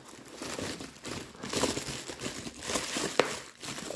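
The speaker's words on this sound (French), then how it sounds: "vous avez encore du papier bulle, donc c'est super bien protégé. On va terminer ensemble de déballer." Bubble-wrap packaging around a painting canvas and accessory being unwrapped by hand, producing steady close crinkling and rustling with a few sharper crackles and no speech.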